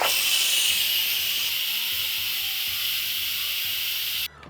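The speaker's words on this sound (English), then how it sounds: "And now we release all the pressure from our Instapot." Steam hisses loudly and steadily out of an Instant Pot pressure cooker's release valve during stew making, a continuous high rush that holds for about four seconds and then cuts off abruptly.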